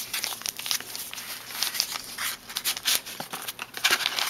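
Paper or foil crinkles and crackles up close as the ends of a small hot chocolate pouch are folded in, a busy run of sharp crisp rustles.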